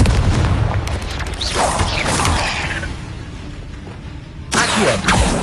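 Confringo fire spell blasts from Hogwarts Legacy erupt as loud whooshing booms, one large burst swelling and trailing off, followed by a second sudden blast a few seconds later.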